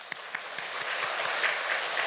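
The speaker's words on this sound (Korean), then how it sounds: "그 하나님께 영광의 박수를 올리겠습니다." A church congregation claps together in praise to God during a sermon, a brief, fairly soft burst of many hands heard from a distance in the hall.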